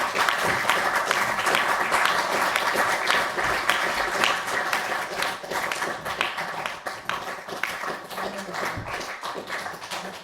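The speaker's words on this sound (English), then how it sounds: "You can clap" An audience at a living room concert claps steadily throughout, a dense, close patter of many hands at even loudness, with faint background murmurs.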